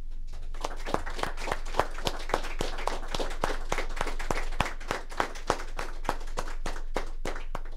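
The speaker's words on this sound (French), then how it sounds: "je pense qu'on peut lui donner une chaude main d'applaudissement" A crowd applauds steadily throughout, dense clapping with some sharper rhythmic claps standing out, a sustained ovation from a sizable audience.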